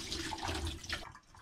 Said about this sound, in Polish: Wylewamy tą wodę.